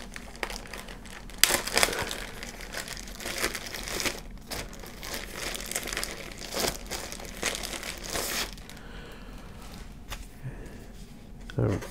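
Crinkly plastic bag holding cardboard counter sheets for a wargame is handled and rustled in irregular bursts during an unboxing, with a person talking over the crackling.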